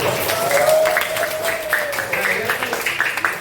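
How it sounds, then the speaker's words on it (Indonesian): Children applauding in a classroom after a correct answer: scattered, light clapping mixed with young voices and chatter, fairly steady and moderately loud. "Silakan tepuk tangan dulu."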